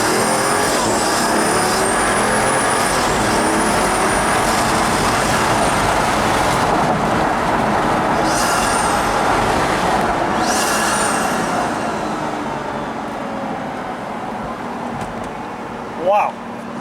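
A Pagani Huayra accelerates hard with a loud, roaring engine and turbo, the sound sweeping past and then easing off into a quieter rumble. Voices can be heard near the end.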